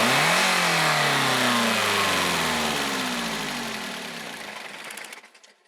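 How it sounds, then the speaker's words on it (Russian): A car engine held at full throttle during a mechanical engine test, a loud sustained roar that sags and winds down after the ignition is cut, ending in a few shuddering thumps and silence. "Резко нажимаем на педаль акселератора до упора и,"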